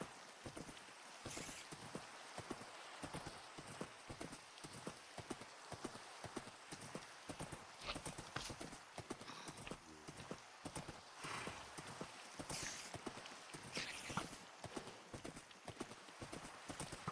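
Steady clip-clop of horse hooves in a blocky survival video game, a brisk continuous trot, quiet and close, with faint rain-like patter behind it and no talk.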